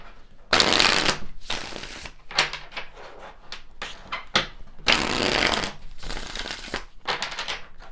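A deck of tarot cards is shuffled close up in several loud riffling bursts, separated by short pauses and softer handling clicks.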